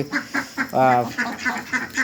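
Repeated duck quacks in a steady rhythm while ducks eat rice mixed with rice bran, with one louder, longer call in the middle, close by.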